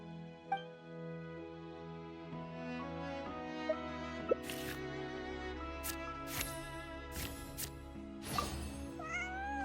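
Cat Bonnie meows a few times in Genshin Impact, short distinct calls over a steady bed of layered musical score, with sparkly chimes now and then.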